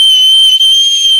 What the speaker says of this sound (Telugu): మీరు విజిల్ వేసినప్పుడల్లా బ్లాస్ట్ వస్తుంది